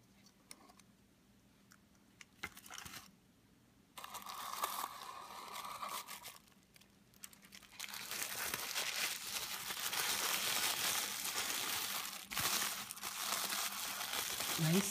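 Red wrapping paper is pulled off a small gift, starting with sparse rustles and taps. It builds into sustained loud crinkling and tearing that fills the second half.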